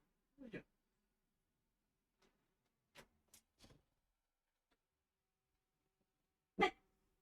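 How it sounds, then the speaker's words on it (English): A few sharp dog barks scattered across the stretch, one early, a couple in the middle, and a louder one near the end, with quiet gaps between. "What you barking for? Why are you barking?"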